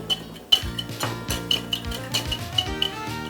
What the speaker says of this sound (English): Right, give that a little mix. Squash the garlic in.